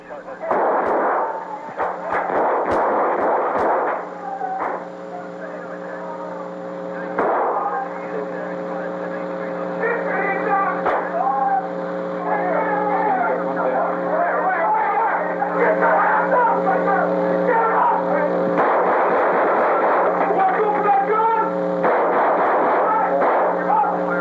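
Gunfire in a police shootout between a SWAT team and four gang members at the rear of a store, heard as loud bursts of shots over a steady tonal drone.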